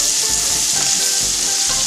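Tomatoes fry with browned onions in olive oil, a close, loud, steady sizzle with soft stirring scrapes rising and falling beneath it, and no talking.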